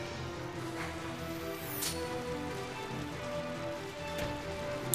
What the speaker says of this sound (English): A nice pitter patter of the rain.